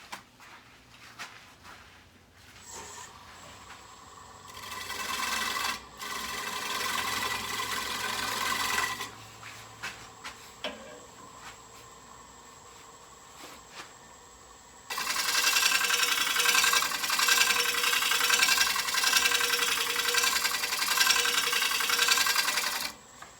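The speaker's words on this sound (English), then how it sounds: "I'm gonna do the final smoothing out with some shear scraping" A spinning lathe with a scraper shear-scraping a wooden bowl, a hissing, rasping sound that comes and goes in long passes, louder in the later stretch.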